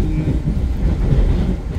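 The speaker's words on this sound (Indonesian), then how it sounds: "kita bertemu dengan kereta api Serayu dari arah Bandung dan Purwokerto" A Serayu passenger train passing near Cikampek station, heard from aboard another train as a loud, close, steady low rumble of rolling rail noise with no talk.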